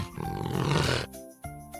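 A leopard growl sound effect in an animated read-aloud of an Eric Carle picture book: a loud, rough, rumbling growl lasting about a second, followed by quieter musical tones.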